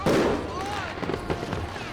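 Fireworks burst in the Western shooter game Call of Juarez: Gunslinger, several sharp pops and crackles scattered over a steady background, with a voice talking over them.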